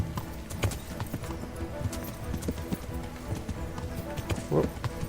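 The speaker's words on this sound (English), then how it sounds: "If I can keep the horse on track a little bit, should be alright." Horse hooves clip-clop at a steady galloping rhythm in the medieval game Kingdom Come: Deliverance, fairly close and continuous, with a brief whinny near the end and some background game noise.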